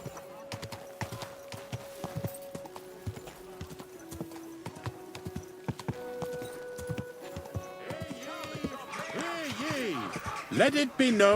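Horse hooves clip-clop steadily in the Kingdom Come video game, a quick, even run of hoofbeats over sustained tonal game sounds that swell and grow busier toward the end.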